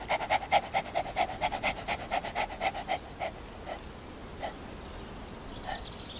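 A dog pants rapidly in a steady rhythm of quick breaths, close and fairly clear, then slows to a few scattered breaths toward the end.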